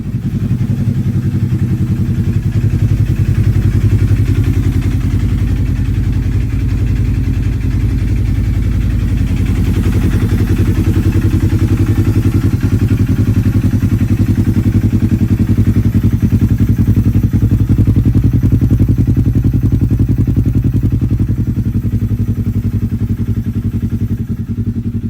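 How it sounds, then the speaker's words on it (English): A 1969 Dodge Charger engine runs steadily at idle, loud and near, with a low rumbling drone and a faint mechanical clatter throughout. "Doesn't sound like your typical 900 engine, does it?"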